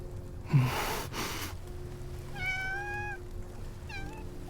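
A cat meows twice in the Love & Deep Space video game, a drawn-out rising meow followed by a shorter one, heard alone over a soft steady background after a breathy gasp.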